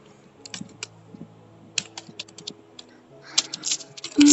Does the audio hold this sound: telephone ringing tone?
no